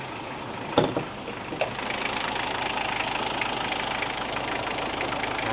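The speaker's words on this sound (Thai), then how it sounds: "ลูกค้าเดี๋ยวเขาสตาร์ทเครื่องให้เบิ่งเด้อ" Diesel engine of a Hyundai Grand Starex manual-gearbox van with a plain intercooler, running at a steady idle after a couple of sharp starting knocks, a continuous close rumble with no talking.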